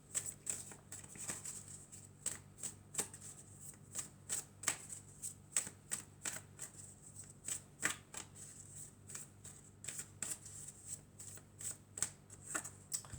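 Tarot cards being shuffled and drawn by hand, a close, steady run of crisp riffling snaps and soft slides repeating through the whole stretch with no talk.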